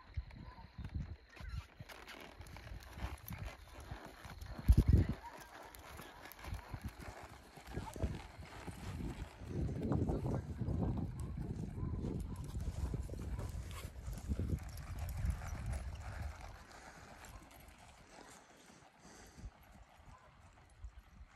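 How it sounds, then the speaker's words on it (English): A quarter horse loping in circles in an arena, rhythmic hoofbeats rising and fading as it passes nearer and farther, with a sharp knock near the start and people talking at times. "won't you lope him some circles?"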